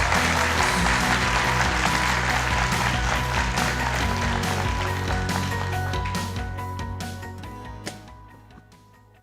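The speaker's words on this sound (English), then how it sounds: "Please give him a round of applause." Audience at an edge AI technology conference applauding, a full crowd's sustained clapping that stays strong for several seconds before tapering off into scattered claps.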